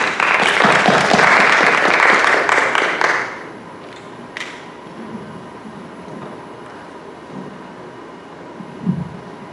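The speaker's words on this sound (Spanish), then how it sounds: "Un aplauso para Noa Shah" An audience applauds loudly with dense clapping at a Peruvian political speech event, lasting about three seconds before fading into quiet room noise.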